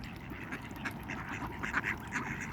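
A duck quacking in short, scattered calls while eating lettuce beside a pond, heard over steady outdoor background noise with other birds nearby.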